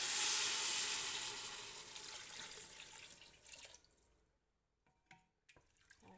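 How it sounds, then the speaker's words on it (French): Hot water is poured into a pot of lentils on a very low flame, a loud close rushing pour that fades out over a few seconds, then a couple of light clinks and drips. "Alors, j'y rajoute de l'eau chaude."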